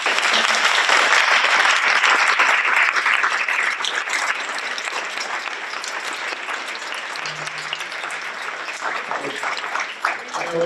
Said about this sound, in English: But now we can clap, everybody.